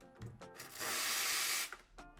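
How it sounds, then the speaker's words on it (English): A loud burst of hissing steam from an espresso machine wand being purged of excess water lasts about a second, framed by soft clicks and handling noises before and after. "Always do the steam first a little bit so you get all the excess water that's in here out."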